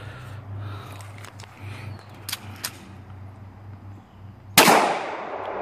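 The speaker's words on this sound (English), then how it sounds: "go ahead, pop this one in and shoot the Walther" A single loud, sharp Walther pistol shot cracks outdoors near the end, preceded by a low steady hum and faint scattered clicks.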